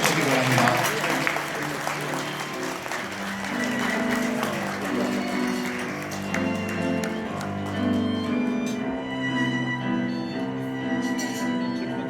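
At a wedding ceremony, a crowd of guests applauds steadily and warmly for several seconds while music plays underneath and a voice speaks over a microphone.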